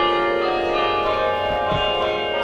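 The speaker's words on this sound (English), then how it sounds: "So why did St. Patrick's Church install a new bell and digital carillon after years of not having one?" Church bell of St Patrick's Church in Mackay, a loud sustained ringing tone with rich, clear overtones that hangs steadily throughout.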